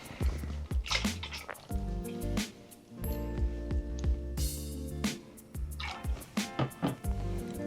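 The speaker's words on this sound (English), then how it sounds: "I'm gonna add some soy sauce." Soy sauce poured into a bowl of water for spicy deer jerky marinade, a soft liquid trickle and dribble with small splashy drips, near and fairly quiet amid clinking and handling noises.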